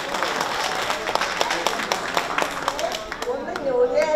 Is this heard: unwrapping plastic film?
no